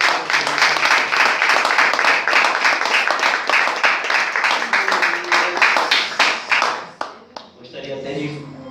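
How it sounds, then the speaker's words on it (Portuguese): Congregation in a church applauding together, a dense sustained burst of many hands clapping that fades out, with voices mixed in and speech following near the end. "Aplauda o Senhor."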